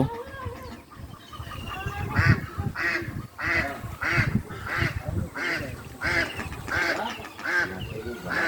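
Repeated loud honking quacks from white ducks at a pond bank, coming in a steady run of calls about once a second over outdoor background noise.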